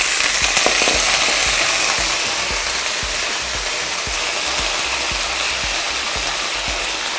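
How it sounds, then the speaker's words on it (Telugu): Mutton pieces frying in a pot of hot oil throw up a loud, steady sizzle that runs without a break from start to finish, close and up front, with no voices. "మటన్ వేస్తున్నాను ఈ దీంట్లో. ఇప్పుడు జస్ట్ ఫ్రై చేసుకుంటున్నాను."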